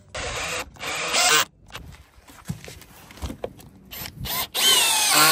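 Power drill driving screws into deck pedestals on a rooftop terrace, loud whirring bursts at start and end with quieter clicks and knocks between.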